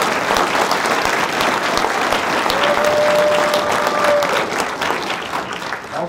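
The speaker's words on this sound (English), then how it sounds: "Let's give the families of all these folks a big round of applause." Audience applause at a North Carolina District 11 candidate forum, a sustained, loud round of clapping from a crowd with a brief whistle partway through, tapering slightly at the end.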